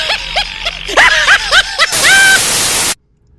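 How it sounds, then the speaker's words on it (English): Loud bursts of harsh radio static and feedback mixed with eerie, cackling laughter, seemingly from a radio at the back of engine sheds. Short warbling laughs come first, then a sustained hiss of static that cuts off abruptly into silence. "the loud bursts of static feedback and creepy laughter coming from somewhere"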